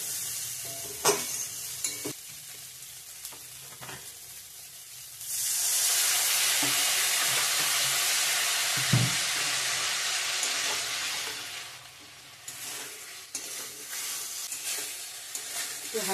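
Water sprinkled onto cauliflower cooking with salt, turmeric and chili sets off a sudden loud, bright sizzle that holds for several seconds, then fades. Stirring knocks and scrapes sound close by before and after the burst.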